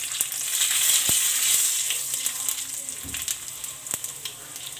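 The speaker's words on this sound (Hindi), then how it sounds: "1 टेबलस्पून में भर के इसमें जो है ना ज़ीरा डाल रही हूँ बघार के लिए" Cumin seeds and whole red chilies sizzle in hot oil for a tadka, a steady crackling hiss with scattered pops and a soft stir, fairly close and with no talk.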